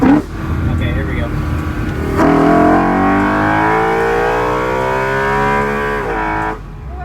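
A BMW E93 M3 V8 fitted with an intake plenum delete and velocity stacks revs hard, its loud induction howl climbing steadily in pitch for several seconds before cutting off, with a brief voice beforehand.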